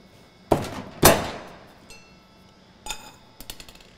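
A mallet driving a pry bar against a metal fuel tank locking ring on a 2006-2024 Dodge Ram Mega Cab, giving two sharp ringing metallic strikes followed by a few lighter clinking taps, close up.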